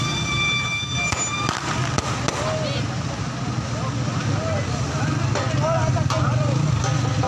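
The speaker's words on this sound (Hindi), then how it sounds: "आतिशबाजी का भी साथ साथ मुजाहरा जारी है।" Fireworks at a street rally celebrating an election win in Mangla Hamlet, Kashmir, with scattered sharp pops and crackles over a busy crowd murmur and engine noise, voices audible throughout.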